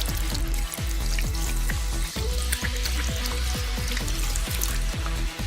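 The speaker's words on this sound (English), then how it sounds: "we're gonna wash our hands now" Hands being washed under a running tap, a steady loud rush of water with irregular splashing as the hands move through the stream, close and with no talking.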